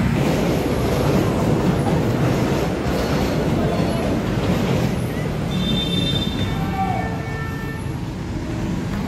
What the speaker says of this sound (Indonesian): Terdengar ya suara kereta api,